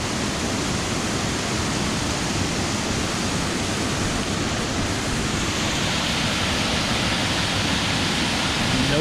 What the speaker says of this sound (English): Yeah, here's another waterfall.